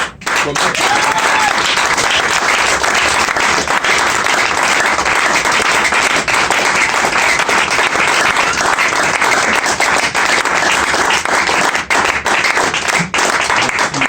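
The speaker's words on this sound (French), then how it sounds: "Merci pour ces acclamations" A church congregation applauds and cheers at an end-of-2019 service, loud sustained clapping with crowd shouts running unbroken throughout, close and full.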